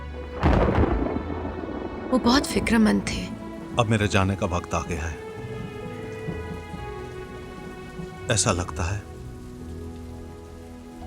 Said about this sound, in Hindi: और बादल गरजने की आवाज आ रही थी।